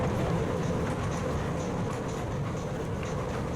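A Las Vegas Monorail car rolls along steadily with a continuous low rumble and whir from inside the cabin, holding an even level with no voices.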